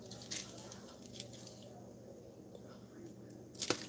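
Scissors snip off a length of tie for a bag of chocolate-covered pretzel treats, a few quiet close cuts with a soft crinkly rustle at the end, low in level.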